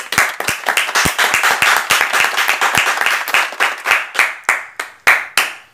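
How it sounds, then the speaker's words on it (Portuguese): An audience at a cultural event claps in a loud, close, rhythmic burst of individual hand claps. The claps start dense and quick, then slow and spread into distinct, widely spaced smacks toward the end. "Todos que estão nessa casa, por favor, batam palmas."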